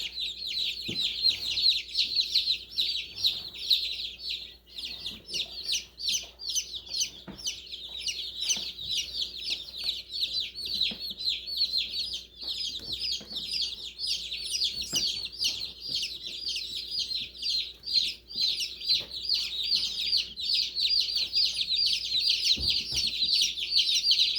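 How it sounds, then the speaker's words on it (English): Dense, continuous high-pitched peeping from a brooder full of mixed-breed baby chicks, many overlapping chirps near and steady throughout, with no talking. "nice variety of chicks this year"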